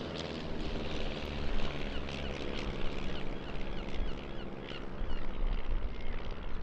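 Aircraft flying at the Eastbourne International Airshow, a broad continuous engine roar that swells and eases, distant and steady over open air.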